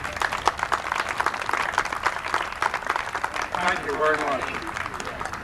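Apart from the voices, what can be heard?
round of applause from the crowd at a baseball championship ceremony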